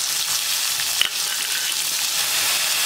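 Onions fry in hot oil with cumin in a kadai, giving a bright, steady hiss of sizzling with one brief clink partway through, close and uninterrupted.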